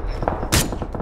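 A single loud gunshot burst from a SCAR rifle in the battle royale game PUBG, sharp and broadband with a short ringing tail, standing out over faint background game noise.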